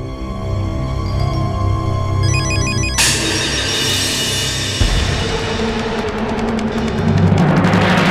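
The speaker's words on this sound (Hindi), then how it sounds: "ये फोन उठा ले" A phone rings with a repeating electronic tone over a loud dramatic music score in a Hindi TV serial scene, the ringing pattern partly buried under the music throughout.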